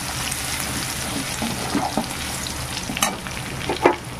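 Taro greens (kochu shak) fry with crushed garlic in a pan, giving a close, continuous sizzle. Occasional stirring scrapes and wet splutters break through.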